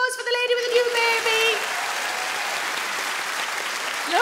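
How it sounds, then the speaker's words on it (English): A comedy audience bursts into loud, sustained applause in a stand-up show, with whoops and cheers in the first moments before the clapping settles into a steady roar. "Round of applause for the lady with the new baby."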